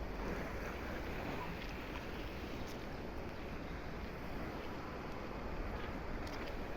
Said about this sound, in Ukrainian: Яхта, море.